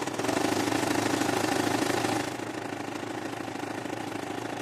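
A sewing machine stitching a zigzag seam finish runs with a dense, steady motor whir and rapid needle chatter, loud and close, easing slightly in intensity partway through with no talk.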